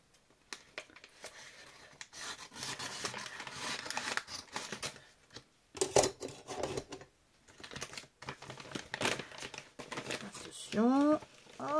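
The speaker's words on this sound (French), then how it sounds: "Donc alors on va ouvrir le colis." A parcel is opened by hand, its packaging crinkling, rustling and tearing up close in irregular bursts, while a voice speaks briefly near the end.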